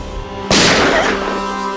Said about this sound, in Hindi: ये क्या गोली चलने की आवाज है?